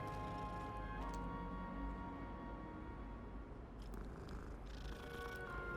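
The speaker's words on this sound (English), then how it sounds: "Ooh, pet the kitty." A pet cat named Loki purrs steadily while being stroked, a soft continuous rumble running through the whole stretch with faint background clicks and no talking.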